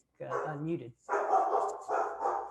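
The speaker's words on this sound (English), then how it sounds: "That's my dog." A pet dog in a home barks through an unmuted call, several close, loud barks in quick succession, with speech around it.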